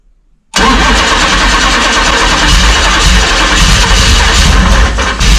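Hemi V8 car engine with Holley EFI cranks after a short silence, then catches and runs, settling into a loud, steady idle heard up close.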